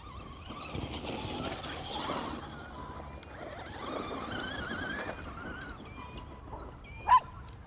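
Cartoonish small dog yips and whimpering squeals in a video game, faint and busy over game music and ambience, with one sharp louder squeak near the end.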